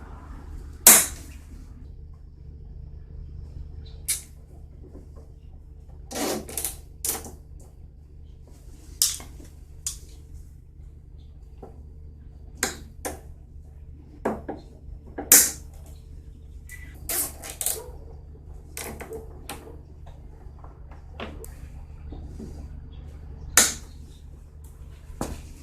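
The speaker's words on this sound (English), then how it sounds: "I'll end up by putting me some new zip ties on here." Nylon zip ties being ratcheted and snipped while fastening a brake cable on a Troy-Bilt TB210 mower, heard as scattered sharp clicks and snaps spread over about 25 seconds against a quiet hum, with no talking.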